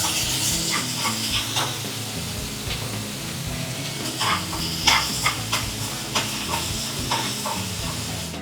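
Chopped onions sautéing in a pan for Kerala fish pollichathu, a steady close sizzle and hiss running throughout with scattered sharper clinks and scrapes of a spoon stirring, no talking.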